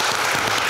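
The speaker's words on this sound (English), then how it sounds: "Round of applause." An audience at a climate event in New York City applauds, a dense, loud wash of clapping filling the brief moment.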